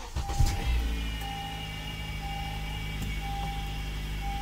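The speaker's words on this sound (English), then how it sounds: "So we're going to start the car." A Honda Accord from the 2008–2017 generation starts up: a short cranking burst, then the engine settles into a steady, close idle hum that carries on alone without talk.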